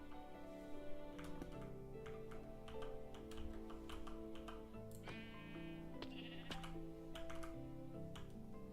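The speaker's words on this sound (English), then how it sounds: "there's the other sheep" Sheep bleat repeatedly in a modded Minecraft game, short wavering calls against a busy background of clicks and ticking, fairly quiet overall.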